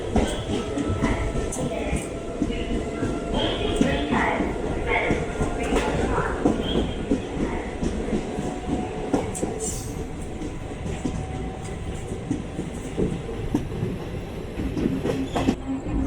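Alappuzha Kannur Executive Express running on rails between Thrissur and Shoranur in Kerala, a steady continuous rumble of wheels and carriage with faint clatter throughout, with some voices in the background.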